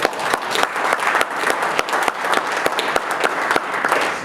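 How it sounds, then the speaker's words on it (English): An audience bursts into sustained applause at a speaking event, dense clapping filling the room steadily for several seconds with no break. "Give yourself a round of applause."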